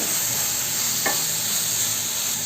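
Onion, chilli, carrot and beans sauté in a pan for rava kichadi, giving a steady close sizzle and hiss with one brief stirring scrape in the middle.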